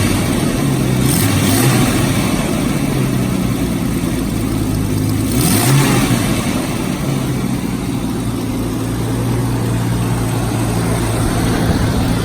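A Jeep Wagoneer's old straight-six with a small exhaust leak runs loud and steady, rising in a couple of brief revs before settling back to a rough, ticking drone.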